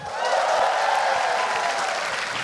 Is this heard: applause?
yes